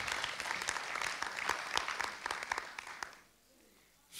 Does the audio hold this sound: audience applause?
yes